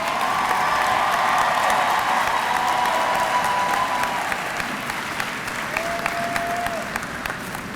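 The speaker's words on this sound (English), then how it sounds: "Lorraine Cottrell, please stand up so we might applaud you." Loud, steady applause from a commencement audience for a graduate's mother asked to stand, a thick wash of clapping with a few faint whistles and cheers, tapering slightly toward the end.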